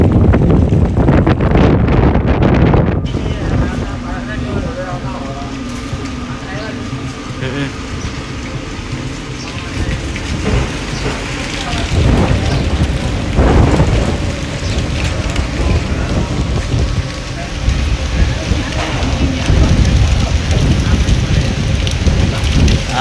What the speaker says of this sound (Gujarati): ફૂલ પવન એકદમ વાવાઝોડું વાળું જેવો પવન ચાલુ થઈ ગયો